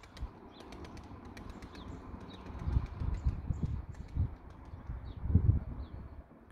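A male blue pigeon flapping its wings on takeoff, a few soft irregular flutters and low thumps close by against faint background noise.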